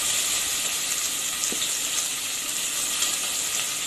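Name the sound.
chopped onions added to fried fenugreek, sizzling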